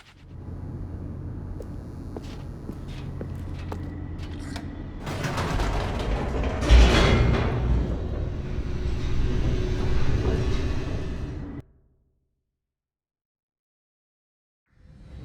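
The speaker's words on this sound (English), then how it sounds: "The elevator raced downward, plummeting towards an unknown fate." An elevator descends in The Stanley Parable, a steady mechanical rumble with creaking rattles that swells louder midway, holds, then cuts off abruptly into silence near the end.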